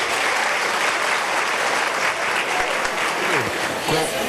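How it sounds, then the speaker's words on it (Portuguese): Loud, dense applause from an audience welcoming a speaker at an education conference, continuous throughout with a voice faintly heard under it. "Pode aplaudir, pode aplaudir."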